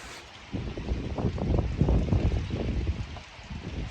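A hose sprays water in a quick rinse over a pond filter, a steady rushing hiss that swells after the first half second and holds fairly close and loud, with no talk.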